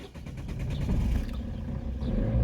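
A Peugeot 207 1.6 HDi diesel engine with a suspected faulty pump cranks and catches, then settles into a steady, close, rumbling idle.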